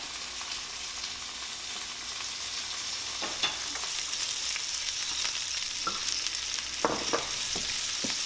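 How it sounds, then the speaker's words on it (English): Cherry tomatoes frying in oil with garlic in a pan, giving a steady broad sizzle with a few brief utensil clicks and stirring knocks, close and moderately loud, with no talking. "And then you're going to put in your cherry tomatoes. We're going to fry those up."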